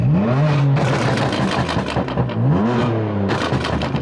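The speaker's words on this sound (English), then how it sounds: "So let's do sport now, and it's burble." A BMW F-series engine with a BootMod3 tune in sport mode revs loudly with rapid crackling exhaust pops and burbles layered over the rising and falling engine note, close by.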